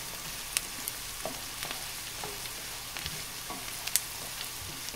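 Carrots cook down in butter in a pan, giving a steady close sizzle and fry with scattered small pops and occasional light stirring clicks throughout, no voices.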